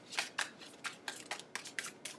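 A deck of tarot cards being shuffled by hand, giving about nine quick, crisp riffling bursts in an uneven rhythm, close and fairly quiet, with no talking.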